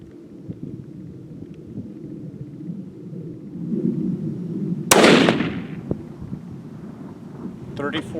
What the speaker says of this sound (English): getting ready to shoot the 22-250.